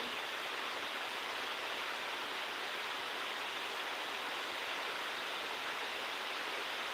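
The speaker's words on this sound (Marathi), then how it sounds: "भरपूर पाऊस चालू आहे" Heavy monsoon rain pours steadily, a dense, even roar of water with no breaks or voices.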